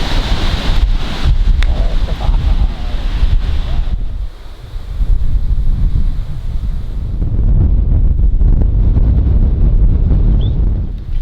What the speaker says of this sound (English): believe me, it's windy today.